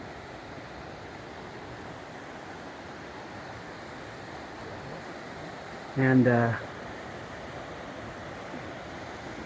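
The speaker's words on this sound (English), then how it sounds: "this is the river we got our water from." Steady broadband rush of a mountain river flowing near a tent site below a peak on the Pacific Crest Trail, continuous and even throughout, with a single brief spoken word partway through.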